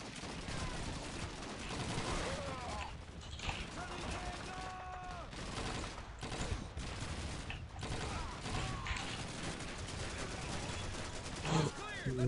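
Rapid machine gun fire from a video game, dense bursts of shots rattling almost nonstop with voices talking over the action.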